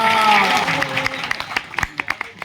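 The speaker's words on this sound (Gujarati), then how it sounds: "સંગીત વાળાને સાજિંદાને જોરદાર તાળી થયો હતો" An audience applauds at a devotional bhajan gathering in a Ramdev Pir temple. A voice and dense clapping open the moment, then the applause thins into a few scattered, separate claps close by.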